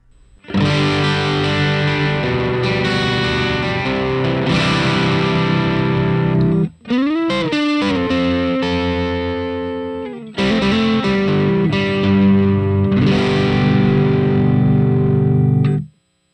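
Heavily distorted electric guitar chords through a BOSS DS-1 distortion pedal ring out loud and sustained, with a brief bending, wobbling passage midway before the thick crunch returns.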